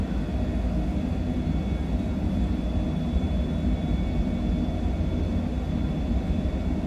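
Business jet engines spool up for the takeoff roll, a steady low rumble with a faint high whine laid over it, sustained and even throughout.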